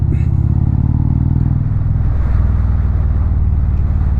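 Rush hour road traffic streams past a rider waiting on an Indian motorcycle to turn left, a loud, close engine drone with a vehicle sweeping by partway through.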